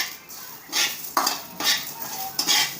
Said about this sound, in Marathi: आता याच्यात कोथमीर टाकून घेऊया मग कोथमीर असे कडक होईपर्यंत परतून घ्यायचे आहे